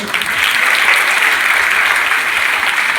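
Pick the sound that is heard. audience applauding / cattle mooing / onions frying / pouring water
audience applauding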